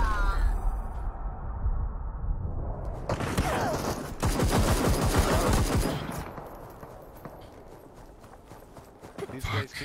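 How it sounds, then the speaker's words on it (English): Rapid automatic gunfire in a first-person shooter game, with bursts of shots crackling loudly over the game's ambient sounds, and players talking throughout. "These guys keep shooting at me."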